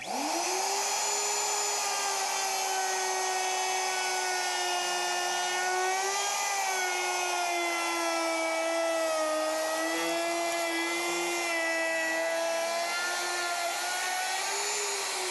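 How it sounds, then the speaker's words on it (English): A woodworking router fitted with a classic profile bit and ball bearing guide whines at high, steady pitch while cutting wood, its tone dipping slightly under load; loud, close and continuous, with no talking. "This is called a classic profile router bit with a ball bearing guide."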